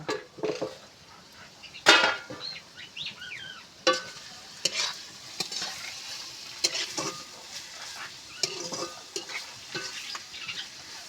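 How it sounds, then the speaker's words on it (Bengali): Onions are stirred and fried in an uncovered pan for an egg curry, with irregular spatula scrapes and knocks over a steady sizzle. "ঢাকনা খুলে নিয়ে আমি পেঁয়াজটা নেড়ে চেড়ে ভেজে নেব"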